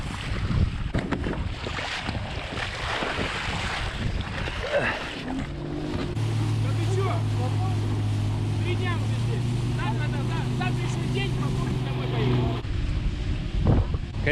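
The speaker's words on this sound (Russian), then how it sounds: "Сейчас ветер поднялся." Wind gusts across a fishing catamaran on the Lena River in Yakutia, roaring into the microphone, then a boat motor's steady droning hum joins for several seconds before easing away.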